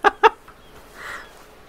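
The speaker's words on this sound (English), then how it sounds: "There's a bird." A bird in the survival game The Forest gives two sharp close clucks in quick succession, followed by a softer, fainter call.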